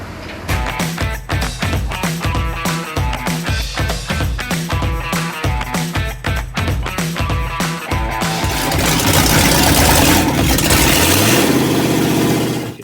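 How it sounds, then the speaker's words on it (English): A 1971 Chevrolet K5 Blazer V8 fires and revs hard in repeated rhythmic bursts, then settles into a loud, steady roar up close, with no talk over it. "With gas in it, it started right up."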